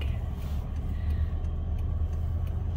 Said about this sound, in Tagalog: Kaya busy yung road natin dito. Traffic.